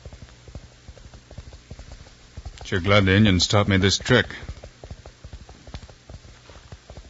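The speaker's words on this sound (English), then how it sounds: "With my ear close to the ground, I can hear his horse running." Galloping horse hooves from a radio drama sound effect, a fast steady clip-clop rhythm running throughout, with someone talking over the middle.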